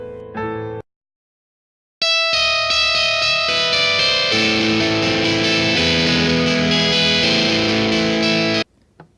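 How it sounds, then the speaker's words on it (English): A brief clean phrase and a pause, then a heavily distorted rock guitar plays a sustained melody loudly until it stops suddenly. "just what if it was played by a rock guitar?"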